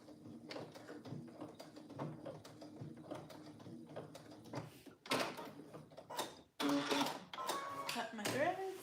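A domestic sewing machine back-stitches straps onto a pillowcase sundress, producing short bursts of mechanical whirring and clicking close by, with a person talking over and between the stitching.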